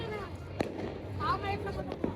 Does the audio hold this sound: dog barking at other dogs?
no